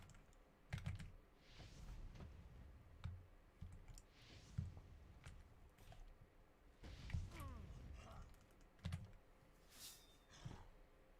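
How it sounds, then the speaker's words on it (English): A computer keyboard is typed on in irregular bursts of clicks and key taps, fairly close, with no speech over it. "Floor Spade, what'd you do to your keyboard?"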